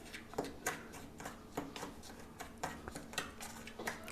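A spoon mixes spices into basket puri chaat in a bowl, giving soft irregular clinks and scrapes against the dish at a quiet, close level, with no talking.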